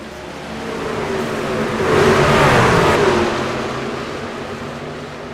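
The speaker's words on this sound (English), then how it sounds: "Tristan Catania, Byron Jones on the throttle. Let's go racing." Race truck engines roar together at a restart at Daytona in the iRacing video game, a loud, steady mass of revving that swells midway and then eases slightly, with no talk over it.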